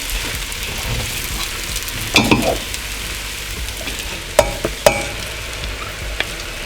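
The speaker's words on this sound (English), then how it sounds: "So mix up until your rice has that nice yellow color" Spicy fried rice sizzles softly in a pan over low heat, with a utensil stirring and scraping through it. A few sharp clinks of metal against the pan break through the steady frying hiss.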